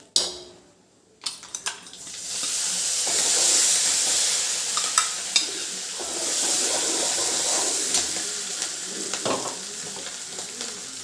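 Chili paste hits hot oil in a tempering of dried red chilies and turmeric for methi dal, bursting into a loud, steady sizzle after a quiet start, with spoon stirs and pan clinks scattered through.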